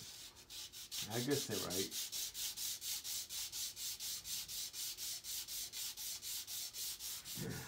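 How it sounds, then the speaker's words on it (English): Sanding strokes on a wooden rifle stock for a swivel breech rifle kit, working the sides and rod channel: a steady, close rhythmic rasp of repeated even strokes that runs throughout, with a brief stretch of speech early on. "sanded both sides and the rod channel itself"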